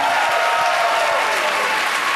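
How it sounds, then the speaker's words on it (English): Dense, steady applause from a large audience at a live newlywed game show on a cruise, loud and sustained throughout with no pauses. "all 6 of our volunteers deserve a huge round of applause"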